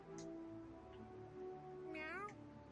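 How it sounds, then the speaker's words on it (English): A cat in South Park The Fractured But Whole gives one brief, faint rising meow above quiet game background tones. "I heard the cat."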